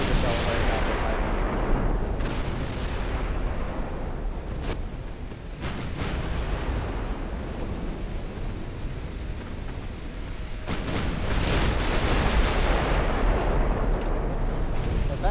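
Battleship main guns firing in the naval warfare game Ultimate Admiral: Dreadnoughts, a dense, continuous rumble of heavy booms and blasts that stays loud throughout.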